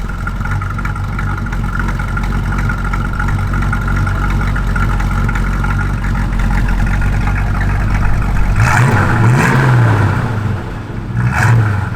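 1967 Ford Mustang GT engine, a loud steady idle rumble for several seconds followed by two sharp revs with rising and falling pitch near the end, no talk.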